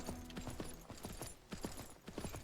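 Horse hooves clip-clopping in Myth of Empires, a quiet, steady run of hoof beats at walking pace with small clicks and creaks, heard faintly with no talk.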